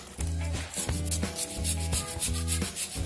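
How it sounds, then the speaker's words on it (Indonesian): A brush scrubs fungus off an adenium caudex in brisk, rhythmic back-and-forth strokes, each one a loud, close, rasping scrape, with no voices. "kita bisa gunakan sikat ini ya guys. Jadi langsung gosok aja"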